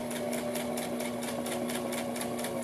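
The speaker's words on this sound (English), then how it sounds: "So I'm going to back up a couple of stitches, and only a couple is plenty. And I'm just doing a basic seam." A sewing machine runs steadily while stitching a basic seam, its needle producing a fast, even rhythmic chatter over a constant motor hum, close and moderately loud.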